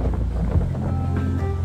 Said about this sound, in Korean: 바람이 많이 불다 보니까